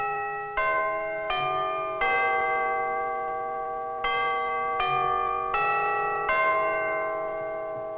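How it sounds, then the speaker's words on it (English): Tuned chimes ring out a simple, slow melody, each clear bell-like note struck in turn and left to sustain and overlap, fairly close with no voices. "Let's listen again to the chimes."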